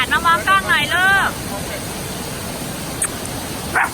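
A woman imitates a dog with a quick run of yapping barks by a waterfall in Nagano, Japan, followed by a steady rush of water and a few faint distant sounds.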